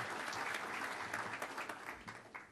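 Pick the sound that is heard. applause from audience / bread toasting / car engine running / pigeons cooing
applause from audience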